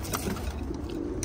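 Ornamental pigeons coo in low, repeated throaty calls close by, overlapping over a rustling background.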